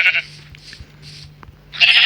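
Sheep in the video game Minecraft bleat in short, close calls, two at the start and one louder at the end, with quieter game sounds between them.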